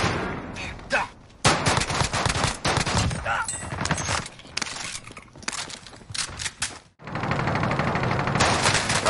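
Rapid bursts of video game gunfire crackle almost continuously, with dense automatic volleys and a few brief pauses, loud and close throughout the stretch.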